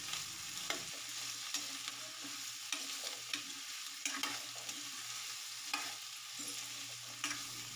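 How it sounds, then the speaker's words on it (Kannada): Onion, tomato and curry leaves fry in a pan, giving a steady close sizzle with frequent scraping stirs at a regular pace and no talk. "ಈರುಳ್ಳಿ, ಟೊಮೊಟೊ ಮತ್ತು ಕರಿಬೇವನ್ನು ಹಾಕಿ ಫ್ರೈ ಮಾಡ್ತಾಯಿದ್ದೀನಿ."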